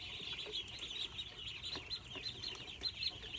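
Young chicks in a warm brooder box under heat lamps give a steady stream of soft, high clucking and cheeping, a dense flock chorus that goes on unbroken throughout.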